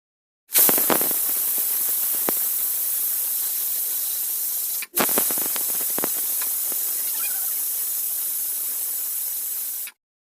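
A pressure cooker of chicken biryani releases steam in two long, loud hissing whistles, each lasting several seconds with a brief gap between them, close and harsh.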